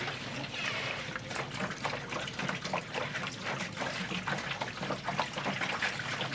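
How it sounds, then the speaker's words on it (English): Water pours and trickles steadily into a bin holding Metricide cleaning solution, a soft, continuous splashing that sits at moderate distance with no voices. "Barb, do you mind pouring the water one in the water bin?"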